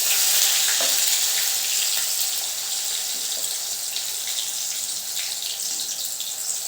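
Chopped tomato sizzles loudly in hot oil with popped mustard seeds and cumin, a dense hissing fry that settles slightly after the first moment, with faint stirring scrapes underneath.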